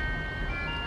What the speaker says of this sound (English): Y'all hear that? I'm waiting on an ice cream truck.